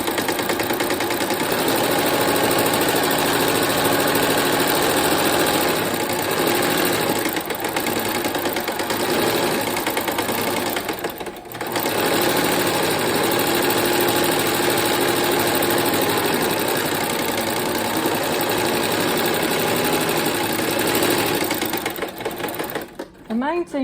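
A sewing machine quilting fabric for a quilted hearts project runs in a steady, continuous mechanical drone, briefly pausing once partway through, with a voice talking over the motor's hum.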